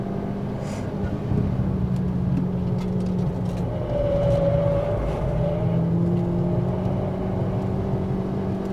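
A Ford Fiesta ST180 with stage 2+ tuning laps Snetterton race track, heard from inside as a steady droning engine and road roar with shifting engine tones as it takes a corner.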